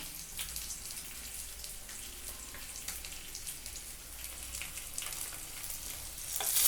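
Masala-coated fish pieces fry in hot oil in a pan, with a close, continuous crackling sizzle and scattered pops that swell slightly toward the end, and no one talking.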